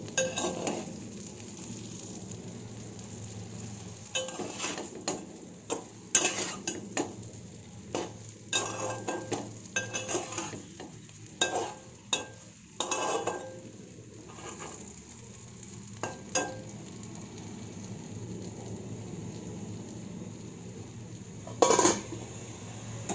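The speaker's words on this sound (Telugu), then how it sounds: "మీడియంలో పెట్టి మధ్య మధ్యన కలుపుతూ 10 నిమిషాలు వేయించుకోవాలి." Andhra-style stuffed brinjal masala curry fries over medium heat in a pan, a soft continuous sizzle broken by repeated clicks and scrapes of a spoon stirring against the pan.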